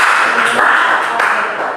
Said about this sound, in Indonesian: Semua beri tepuk tangan untuk Claudia yang sudah menjawab.